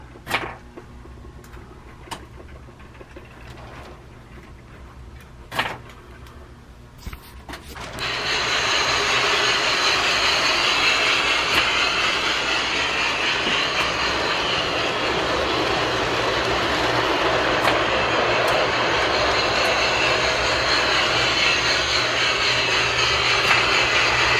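A G gauge model train locomotive starts up after a few scattered clicks and knocks, then settles into a steady, loud, continuous whirring rumble that holds without a break.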